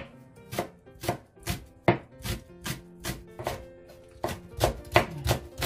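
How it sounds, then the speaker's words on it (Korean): Knife slicing the white part of a green onion (daepa) on a cutting board, about a dozen crisp, evenly spaced chops in a steady rhythm, close and clear with no talk. "반 이렇게 가르고 썰어줍니다"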